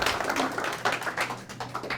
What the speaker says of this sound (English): One big round of applause, everybody.